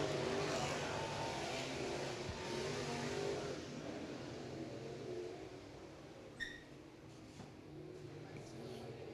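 Race cars running hot laps around Mountain Motor Speedway, a steady broad engine drone that fades slightly over time, with a brief sharp whine near the end.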